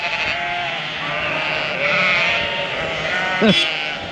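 Sheep bleating at a farm after a breakout through a damaged fence, with a dense, overlapping chorus of calls throughout and one louder, nearer bleat standing out late in the clip.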